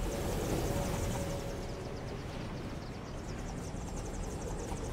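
Whirring, helicopter-like rotor drone of a parachute glider spinning in Fortnite, steady and continuous at moderate loudness, with no talk over it.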